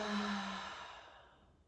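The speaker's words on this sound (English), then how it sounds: "Open mouth, exhale." An open-mouthed exhale during yoga breathing: a single long, breathy rush of air that is loudest at the start and then fades away over about a second and a half, close to the mic, with no talking.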